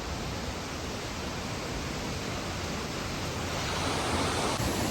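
Keralamkundu waterfall in Malappuram, water flowing at a medium rate, heard as a steady, dense roar of rushing water with no voices.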